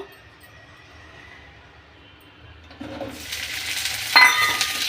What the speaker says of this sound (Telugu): పచ్చిమిర్చి బాగా ఫ్రై అయ్యి చూడండి